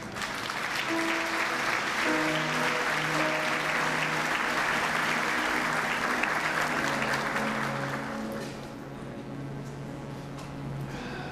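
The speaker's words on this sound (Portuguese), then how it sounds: "Aplauda ao Senhor" A congregation at a church anniversary celebration service applauds steadily and fairly loudly for about eight seconds, then tapers into softer clapping, with sustained organ or keyboard tones underneath.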